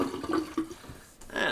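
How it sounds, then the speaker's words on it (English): Shaving water with floating whiskers drains from a bathroom sink, a close gurgling rush of water that swirls, fades, then surges again briefly. "I'm just going to dump my sink because of all those whiskers floating there."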